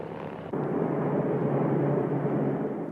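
Engine of an Il-2 Sturmovik, the Soviet ground attack aircraft, a steady heavy drone that swells abruptly after a brief start and holds loud and continuous, with no voices.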